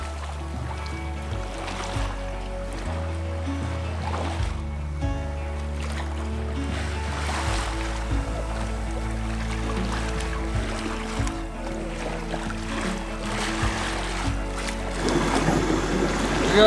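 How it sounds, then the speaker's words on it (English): A sailboat motoring under engine power in the Exumas, its low steady engine drone running throughout alongside water wash and some wind, with no talking. "So we're running the engine and seeing if we can beat this guy."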